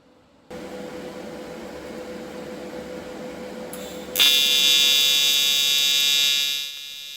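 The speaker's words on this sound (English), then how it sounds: "Welding this out is pretty straightforward once you have your settings kind of dialed in." Quarter-inch aluminum welded at maximum amperage, a steady buzzing hiss that jumps to a louder, harsher arc tone partway through and holds for several seconds before easing off.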